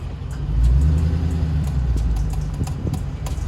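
A Dodge Charger Scat Pack rumbles loudly while driving, with a deep engine drone and sharp, irregular ticks scattered over it, close up and outdoors.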